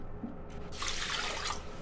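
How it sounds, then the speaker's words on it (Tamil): Water poured into a pressure cooker holding rice and moong dal, a brief, soft rushing pour lasting under a second against low kitchen background noise. "இதுக்கு 2 கிளாஸ் இப்போ தண்ணி சேர்த்துக்கலாங்க."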